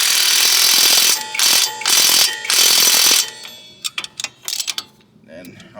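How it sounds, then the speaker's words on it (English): Ratchet cranking down the CV axle bolts on a Nissan Altima, several bursts of rapid loud clicking close by, then shorter scattered clicks and a clank of the tool as the bolts go tight. "Go back over that top one more time"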